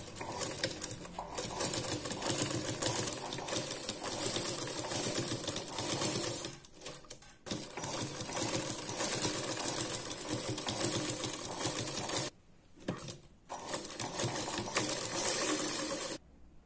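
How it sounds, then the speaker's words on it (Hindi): A sewing machine stitches a blouse back in a steady, close, continuous mechanical rattle that runs for most of the time, stopping briefly twice before starting up again. "अब हमें इसे उठाना है और सिर्फ सिलाई लगाना है।"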